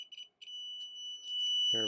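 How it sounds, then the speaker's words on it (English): A replacement piezoelectric alarm for a 1997 Land Cruiser, partly muted with tape, gives a thin, steady high-pitched electronic tone on a bench. A brief gap comes early, and a low buzzy burst follows at the end. "the old alarm is not working and the new one is working"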